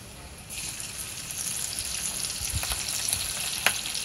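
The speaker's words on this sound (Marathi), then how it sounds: "इथे लसूण लालसर झालाय, आपण त्यामुळे मिरच्या घालूया" Chillies sizzling in hot oil in a pan with reddened crushed garlic and curry leaves, a steady loud close frying hiss with a few soft stirring knocks.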